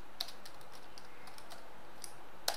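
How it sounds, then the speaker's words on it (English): Computer keyboard being typed on, a quick run of light clicking keystrokes over faint background hiss, ending with one sharper key press like an Enter. "Now I'll start typing."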